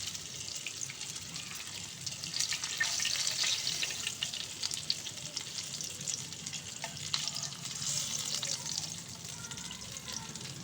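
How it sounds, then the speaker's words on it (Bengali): Rohu fish pieces fry in hot oil in a pan, a soft continuous sizzle and crackle with occasional stirring clinks, steady and close with no talking. "তো মাছটা আমার প্রায় ভাজা হয়ে গেছে"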